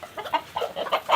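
A hen on an animal rescue farm clucks in a steady run of soft, repeated notes, moderately close against a faint background.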